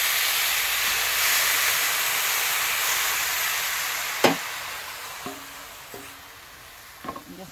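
Milk with sugar heating in a pan on a low gas flame, a soft steady hiss throughout, punctuated near the end by a few faint clicks and light knocks.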